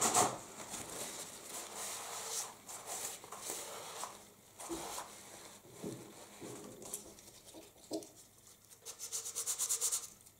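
Repeated scratchy rubbing strokes of sanding on a small part of a 1:50 Savoia-Marchetti SM.79 Sparviero model aircraft, close and uneven in rhythm, quickening toward the end.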